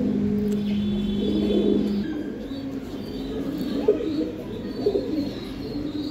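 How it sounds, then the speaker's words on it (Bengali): Big old-line Giribaj racing pigeons coo softly over a steady low background hum, with a few brief sharper calls standing out near the end. "এই আরেক পেয়ার কবুতর"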